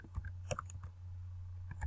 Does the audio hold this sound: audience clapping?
no